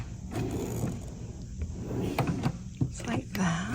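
A drawer in a quilting studio's sewing table slides open with a short wooden scrape and soft mechanical clunks, close by, while someone talks over it.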